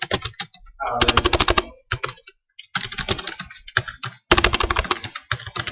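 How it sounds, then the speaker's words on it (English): Someone types Visual Basic code on a computer keyboard in rapid bursts of close, loud key clicks with short pauses between them. "Here I'm going to write combo 1 dot add item king."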